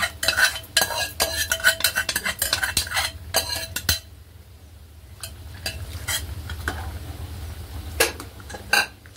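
Cooked dal being stirred into cooked vegetables in a pot for sambar, busy clattering spoon strokes and scrapes against the metal in quick bursts, then a quieter simmering stretch before a few more knocks, close up with no talk.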